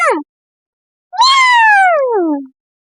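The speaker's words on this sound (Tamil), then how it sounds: "பூனை பூனை பூனை." A cat meows loudly and close by, first a brief clipped call, then after a pause a long, drawn-out meow that slides downward in pitch.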